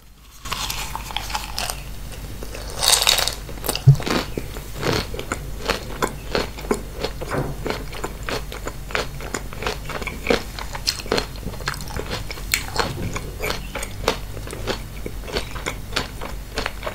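Close-up eating of miang kham, a Thai snack wrapped in betel leaves, with a loud crisp bite followed by steady, wet crunching and chewing at an even rhythm, no talking.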